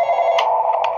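A telephone rings in the horror video game Intruders, a steady electronic trill with short bright bursts, close and loud with no talk over it.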